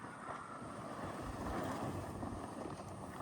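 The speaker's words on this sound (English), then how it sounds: "Bit of wind, as you can see by the tarps." Wind blowing around a house under renovation, with tarps on the scaffolding, makes a steady broad rushing roar that buffets the microphone, continuous and fairly loud with no voices.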